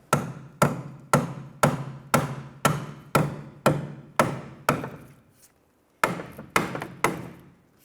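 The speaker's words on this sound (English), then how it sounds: "Try and give us a few bonks with a hammer." Hammer blows ring out against the rear strut and steering knuckle of a 2006-2013 Chevrolet Impala, eleven sharp metallic bonks in a steady rhythm, a brief pause, then four more, close and loud.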